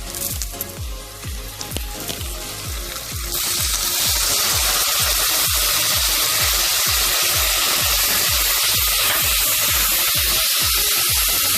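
Onion and garlic hit frying bacon fat and a loud hissing sizzle swells up and keeps going, a steady dense crackle with faint rhythmic stirring clicks underneath.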